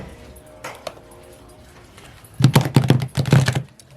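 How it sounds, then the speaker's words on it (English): Tarot cards being shuffled by hand indoors, a quick burst of crisp riffling and tapping that grows louder toward the end, close up with no talk. "I haven't had problems shuffling these cards"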